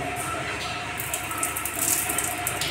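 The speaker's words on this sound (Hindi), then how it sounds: "देखा पानी आ रही है" Water runs steadily from a bathroom shower, a continuous hissing gush at close range with some faint background sound over it.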